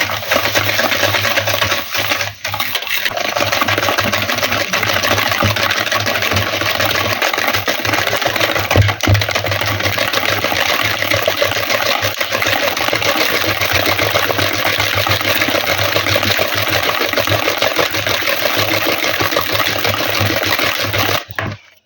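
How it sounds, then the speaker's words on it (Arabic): An electric hand mixer whirs continuously while beating eggs, sugar and vanilla for a cake batter, a loud, steady motor drone with faint rattling against the bowl throughout. "هنضرب بقى كده السكر مع البيض والفانيليا كويس"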